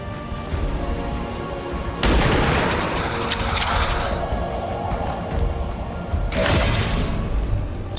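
Squad sight rifle shot in XCOM 2, a loud, sharp gunshot crack with a rolling, booming tail, followed by a second heavy report several seconds later over steady game ambience.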